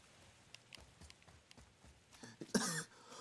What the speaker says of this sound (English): Started coughing